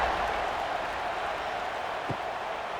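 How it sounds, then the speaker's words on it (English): Stadium crowd in EA College Football 26 during a simulated UCF at Baylor game, a steady broadband roar holding at an even level throughout, with a brief low thump near the end. "this crowd is buzzing after that last score"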